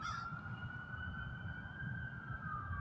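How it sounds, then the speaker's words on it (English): A wailing emergency vehicle siren in New Orleans holds a steady high tone throughout, moderately distant, over a low rumble of traffic noise. "I hear those sounds all day, sirens all day"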